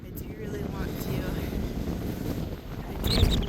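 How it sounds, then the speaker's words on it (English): Wind roars steadily against the microphone in a low, buffeting rumble, gusting louder toward the end. "It's too windy."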